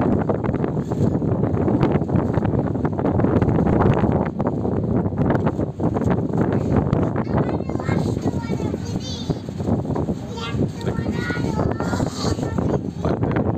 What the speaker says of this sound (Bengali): সুন্দর বাতাস